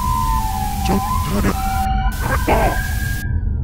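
A wailing siren rises and falls at a steady pitch over a dense rumbling background, with brief bits of speech mixed in.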